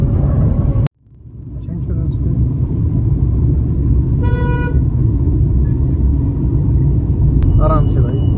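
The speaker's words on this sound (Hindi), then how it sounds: "देखो कितना ट्रैफिक जैम है।" A car horn toots once midway through a loud, steady low rumble of a traffic jam heard from inside a car, with a faint second honk near the end and no talk.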